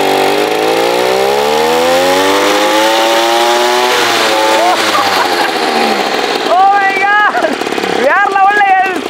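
A 2-stroke 35cc engine on a homemade motorized bike revs to full throttle, loud and close, its pitch climbing steadily, then dropping and surging up again in two sharp bursts.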